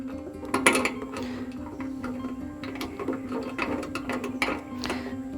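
Screws being tightened on a bracket of a Brown's gas machine bubbler, with close small metallic clicks, taps and ratcheting scrapes scattered over a low steady hum.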